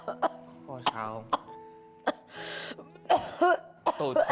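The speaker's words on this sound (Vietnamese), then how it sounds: "Tôi thấy bà ho cả tháng nay được." An elderly woman coughs in a drama scene, a series of sharp, dry hacking bursts spaced irregularly, close and loud, with rasping breaths and throat sounds between them.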